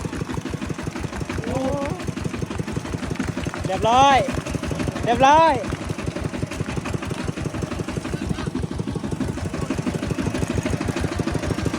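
A farm tractor's engine idles nearby with a loud, rapid, steady thumping pulse, while people talk briefly over it.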